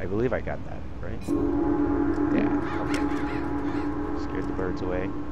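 Crows in the stealth video game Mark of the Ninja let out a burst of loud, close caws as they take off, then a busy game soundscape carries on with scattered further caws.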